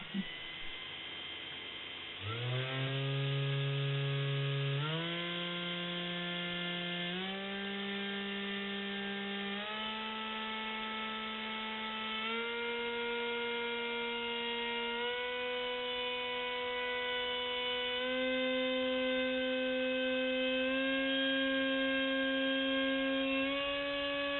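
An electric motor on a thrust test stand whines steadily, its pitch stepping upward in clear increments as throttle rises, loud and continuous with no voices.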